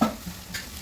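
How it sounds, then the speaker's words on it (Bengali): Onions frying in a pan with ground coriander stirred in, a brief close burst of sizzling and scraping that swells and fades within a second, no voice. "এখন পেঁয়াজের সাথে ভালো করে মশলা একটু মিশিয়ে নিচ্ছি"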